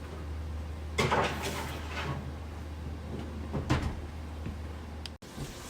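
A kitchen oven door is opened to take out broiled boneless beef ribs, with a few soft knocks and scrapes heard faintly over a low, steady hum.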